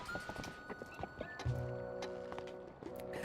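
Epona, the horse in a Zelda video game, clip-clops across steady game sounds, then whinnies loudly partway through and keeps a layered, tonal whinny going to the end.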